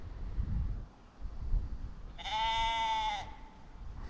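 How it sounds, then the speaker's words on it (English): A single sheep bleats once, a wavering nasal cry lasting about a second, over faint wind and low background rumble. "The sheep have scared away all the fish with the noises."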